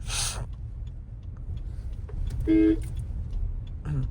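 A new car creeps slowly in first gear, heard as a low, steady engine and road rumble from inside the cabin, with a short electronic beep partway through.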